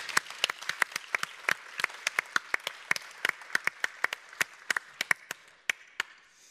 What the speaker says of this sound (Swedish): Jag tycker de är värda en varm applåd också, hela det här gänget.